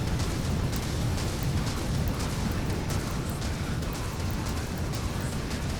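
Frag grenade blasts tearing chunks off wooden cover in a video game, a rumbling, crumbling barrage of low booms and debris that stays loud and continuous throughout.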